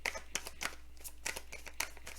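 Oracle cards are shuffled by hand, a quick series of soft crisp riffles and flicks in irregular bursts, close and quiet with no talking.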